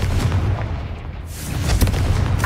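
A Confringo fire spell explodes in the Hogwarts Legacy video game, a loud booming blast with a heavy low rumble, joined by bursts of crackling combat effects.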